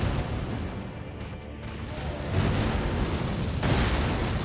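Explosions and booming blasts from the Death Rite Bird boss fight in the Elden Ring video game, loud rumbling bursts swelling twice over a dense, continuous noisy game soundtrack.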